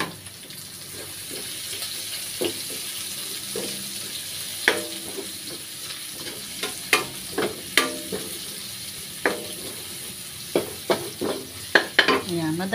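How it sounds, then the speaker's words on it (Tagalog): Garlic, onion and ginger sautéing in a pan for Bikol Express, a low steady sizzle punctuated by scattered sharp utensil clinks and scrapes that grow more frequent toward the end. "Lagay na natin yung ating sibuyas. Sunod na rin natin yung luya."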